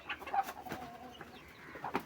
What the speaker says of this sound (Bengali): আমার ডিমের কয়েকটা মুরগি আছে, ডিম পেড়েছে, বাচ্চাও হয়েছে